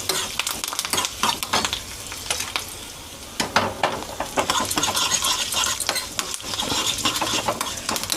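A spoon stirs spices for curd rice tempering in a small pan: repeated metallic clinks and scrapes over a steady, close crackling sizzle of hot oil, and no speech.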